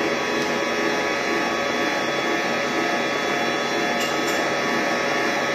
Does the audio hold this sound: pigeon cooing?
no